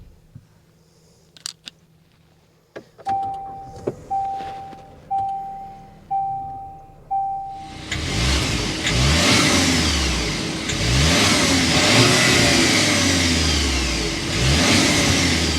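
A 2024 Volkswagen Atlas SEL turbocharged engine turns over with a few sharp clicks and a series of short rising tones, then catches and settles into a loud, steady exhaust drone with repeated revving swells, heard up close with no talking.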